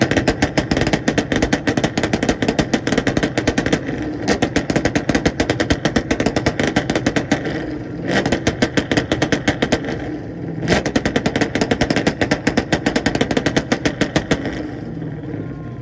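A Chevrolet Camaro revs hard in a 2-step rev battle at a North Carolina car meet, blasting a loud, continuous stream of rapid popping engine bursts with brief dips between pulls.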